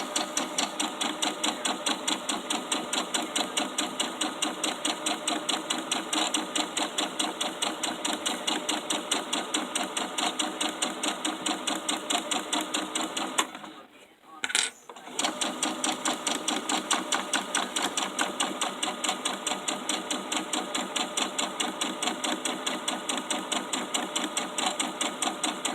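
A sewing machine stitches back and forth while sewing small gift sacks, a close rapid rhythmic chatter that runs continuously, pausing briefly about halfway through before resuming.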